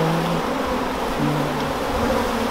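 Bees swarm and buzz steadily around a hive in a tree, a dense droning hum that stays close and continuous with no talking.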